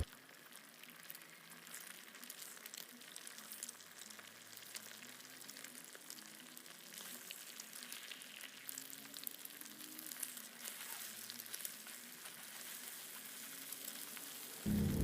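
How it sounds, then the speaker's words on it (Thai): Eggs fry in a pan with a soft, continuous sizzle, faint and steady, with no talking, cooked until dry before cabbage is added. "แล้วเราจะทอดไข่ของเราให้สุกแห้งเลยนะครับ"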